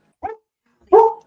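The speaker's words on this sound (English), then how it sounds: "can you guys hear my dog barking?" A pet dog gives two sharp, close barks, the second louder and longer, separated by a short silence.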